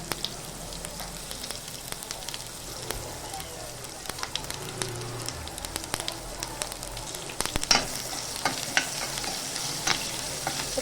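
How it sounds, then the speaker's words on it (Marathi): Mustard seeds, asafoetida and curry leaves sautéing in hot oil for cabbage sabzi, a close crackling sizzle full of sharp pops and spatters, with occasional stirring scrapes. "ते छान असं परतून घ्यायचं"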